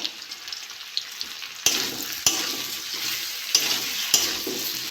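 Taro and brinjal frying in a pan as ginger-garlic paste goes in, a steady sizzle with sharp stirring clacks and a louder burst partway through, no talk.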